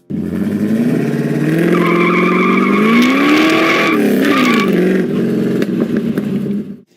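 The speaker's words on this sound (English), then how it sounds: "it creates a great muscle car sound" A 1976 Pontiac Trans Am engine through a performance muffler revs up loudly and throatily, holds a deep rumble before settling, sounding close and powerful, then cuts off abruptly.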